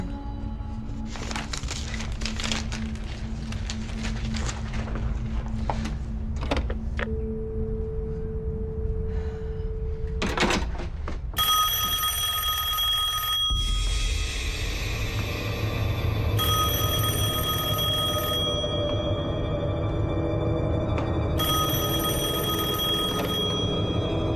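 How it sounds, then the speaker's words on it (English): A telephone rings with an incoming call in a thriller movie scene, its electronic ringtone repeating in bursts over background music and ambient noise. "Call from his phone."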